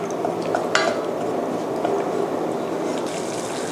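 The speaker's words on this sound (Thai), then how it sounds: "ตอนนี้ก็เร่งไฟนิดนึงนะคะ ผัดนะคะจนกว่าจะกะทิจะแตกมันนะคะ" Pork panang curry paste stirred into coconut milk in a pan over raised heat, a steady scraping and light clatter of utensil against pan with a faint sizzle, close and continuous.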